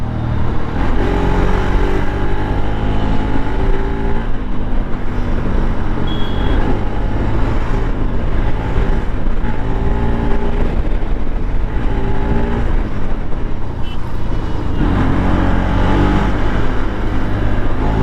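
Bajaj Pulsar RS200 BS3 motorcycle ridden at full throttle through city traffic, a steady loud engine roar with wind rush and surrounding traffic noise throughout, rising and falling slightly with throttle.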